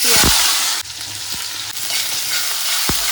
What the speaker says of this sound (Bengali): ফোড়নে দেবো তেজপাতা শুকনো লঙ্কা গোটা জিরে দিয়ে দেবো